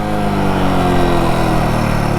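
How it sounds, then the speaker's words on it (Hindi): A motorcycle engine runs steadily at high revs, a continuous loud mid-pitched drone, after its gears have been downshifted hard; there is no talking. "अब इतनी रेस में देखो बाइक बंद हो गई भाई"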